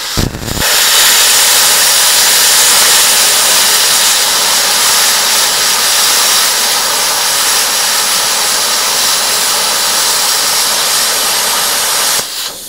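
A plasma cutter slicing through metal plate, starting from the edge, produces a loud, continuous harsh hiss that starts abruptly, holds steady for about twelve seconds, then cuts off.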